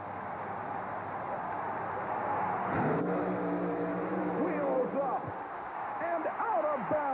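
Jim Weber's supercharged Chevy monster truck tearing through its run at a 1991 Saint Paul USHRA race, engine roaring at a distance amid arena noise, while an announcer talks over it.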